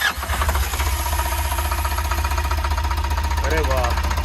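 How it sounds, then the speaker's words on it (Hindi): A Tata Intra V10 engine, freshly repaired after a timing belt change and head work, catches and settles into a close, loud idle with a steady pulsing knock; someone speaks briefly near the end. "अभी स्टार्ट करके देखेंगे गाड़ी को एक बार।"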